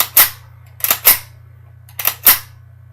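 A suppressed .22 rifle fires in sharp, dry cracks, five close reports across a few seconds, some in quick pairs, with a mechanical bolt-action click among them over a faint steady hum.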